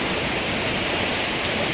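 The fast, swollen Ramganga river in Uttarakhand rushes past during the rainy season, a loud, unbroken roar of turbulent water with no talking.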